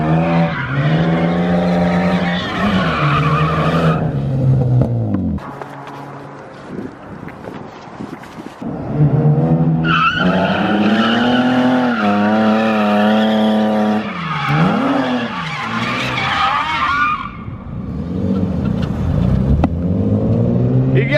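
BMW E36 drift cars hooning on dark streets, engines revving hard with long tire skids and squeals sweeping in and out, loud and close, with a brief lull in the middle.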